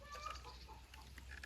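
Silkie chickens stand out in a heavy downpour, giving soft, faint clucks over a low wash of background noise in a brief moment.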